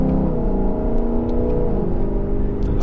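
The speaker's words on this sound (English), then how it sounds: "it's a pretty good sounding car. You know, with the naturally aspirated V8" A 2018 Lexus LC 500 sports car's naturally aspirated V8 engine with a 10-speed transmission, a smooth rising rev and a deep, steady engine note heard up close, with no talk over it.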